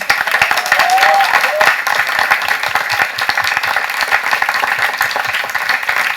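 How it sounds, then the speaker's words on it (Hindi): Enthusiastic audience applause at a stage performance event, loud and continuous with individual sharp claps standing out and a few voices cheering briefly near the start. "एक बार जोरदार तालियां हो जाए प्लीज।"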